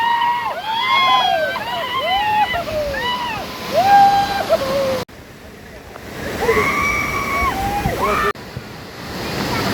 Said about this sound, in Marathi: बघा ओरिजिनल धबधब्याच्या खाली खास धबधबा आणि बघा पर्यटक